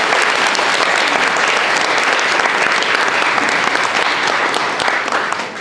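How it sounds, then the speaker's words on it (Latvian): An audience at a Latvian folk song evening in Koknese breaks into loud, dense applause, many hands clapping evenly and close for several seconds before tapering slightly at the end. "Pirmie aplausi!"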